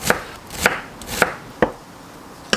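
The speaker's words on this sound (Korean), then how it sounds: "양파는 반 개, 가로로, 세로로 이렇게 잘게 다져주시고요" Knife chopping half an onion finely on a board for shakshuka, five sharp, fairly loud strokes at an uneven pace, close up with no talking.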